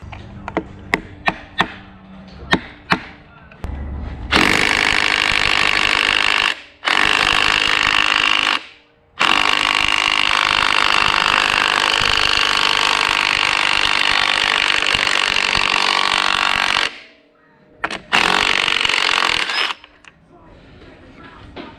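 Impact wrench spinning off the clutch nut on a 2020 KTM 300 while the clutch plates are held still, giving several loud, sustained buzzing bursts separated by short pauses, with faint clicks and handling sounds before the first burst.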